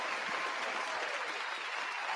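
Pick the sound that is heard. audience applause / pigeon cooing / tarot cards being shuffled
audience applause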